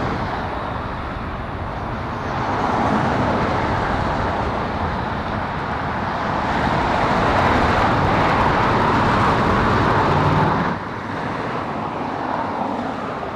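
An airliner takes off at LAX airport, its jet engines a loud, sustained broadband roar that swells and holds before easing slightly, with no voices over it.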